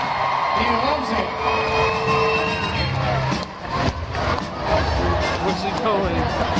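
A crowd of about 3,000 at the Super Dogs show at the Royal Agricultural Winter Fair, loud sustained cheering and whooping for a dog, with people talking and shouting over it close by.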